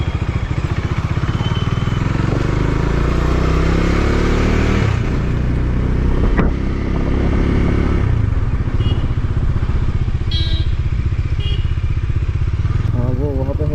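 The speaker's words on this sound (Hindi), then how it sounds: "अभी रात तो बहुत ही ट्रैफिक है भाई।" A Bajaj Dominar 250 motorcycle ridden at night through busy road traffic, its engine droning loudly and continuously with occasional revving and clatter while voices talk over it.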